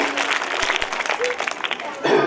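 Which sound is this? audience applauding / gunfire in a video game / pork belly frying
audience applauding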